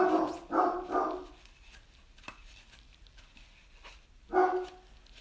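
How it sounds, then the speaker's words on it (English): Indoors, a dog barks in a quick, loud burst of three close barks, then goes quiet before one more sharp bark near the end. "Sorry for my dog, he's losing his mind."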